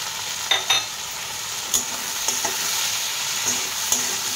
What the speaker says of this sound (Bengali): এবার এর মধ্যে দিয়ে দেবো হলুদ, সামান্য লঙ্কার গুঁড়ো আর স্বাদ মতো লবণ